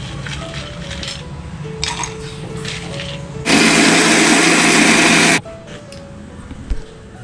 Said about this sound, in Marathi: हा खोबरा आणि कांदा मी भाजून घेतलाय त्या मिक्सरला वाटून घेते